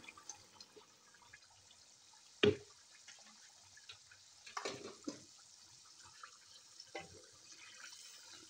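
Ginger and tomato rinsed in water in a home kitchen: faint, sparse splashes and drips, with a few louder sloshes standing out against a quiet background.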